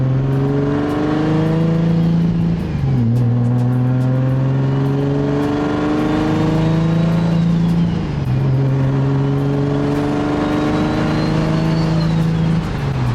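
A turbocharged car engine revs up through several gears, pitch rising then dropping at each shift, loud and close from inside the car.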